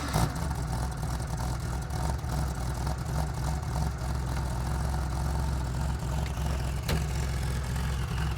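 A 1980 Porsche 911 SC resto-mod idles steadily after starting, a close, low, even engine rumble that holds throughout with a brief blip near the end.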